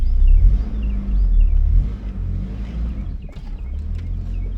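A 2002 Chevy S10 2.2L engine idles with a steady low rumble close by after a timing chain replacement, a faint chirp or two riding above it.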